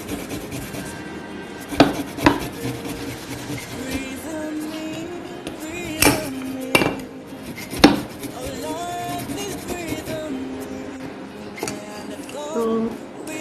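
A small hand-operated manual blender works through freshly washed ginger, giving a close series of irregular chopping and grinding knocks and rasps, with louder sharp impacts scattered among steadier scraping.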